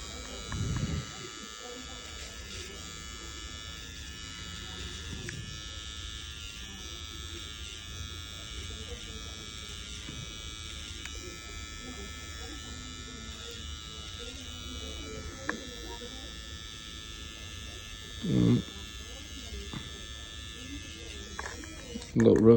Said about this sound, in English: You just kind of trim it down with the trimmer as you're lining him up